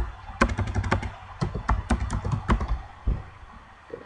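Typing a username and password on a computer keyboard, a close run of crisp, irregular key taps with short pauses, thinning out to a few final strokes, no talking.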